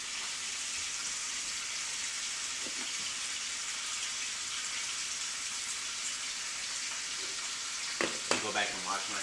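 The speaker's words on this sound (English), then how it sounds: "I'm going to take the chuck steaks here. Just toss them in. And what we're doing is just getting them brown" Chuck steaks sear in a hot pan for beef burgundy, giving a steady, loud sizzle and frying hiss that runs throughout, with brief clatter and a short burst of voice near the end.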